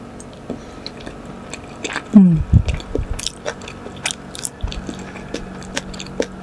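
Eating boiled egg with rice: close, wet chewing and soft biting with squishy mouth sounds, irregular bites clustered in the middle with quieter smacking around them.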